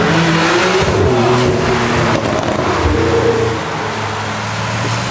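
Supercars such as Ferraris, Lamborghinis, McLarens, Audis and Porsches rev past one after another on a wet street, with loud, continuous engine roar, rising and falling pitch and tire hiss throughout.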